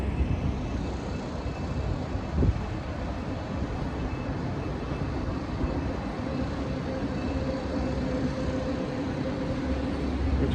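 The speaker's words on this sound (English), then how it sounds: "Train going overhead." A Minneapolis Green Line light rail train passes overhead on a bridge above the flooded Mississippi River at Bohemian Flats, a continuous low rumble and hum with a faint tonal whine, steady throughout with no talking.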